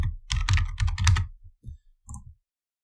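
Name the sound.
typing an email address on a computer keyboard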